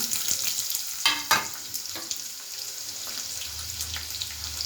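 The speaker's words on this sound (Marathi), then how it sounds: "राई घेतलेली आहे, कांदा टाकूया आपण फोडणीसाठी" Mustard seeds and chopped onion sizzle in hot tempering oil, a close, crackling fry with a few sharp spatters and stirring scrapes and no voices.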